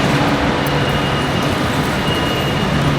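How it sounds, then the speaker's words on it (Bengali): A train stands at a station on the London to Manchester route, giving a loud, steady broadband rumble and hum that fills the whole scene with no breaks. "সো এটা হচ্ছে আমাদের ট্রেন"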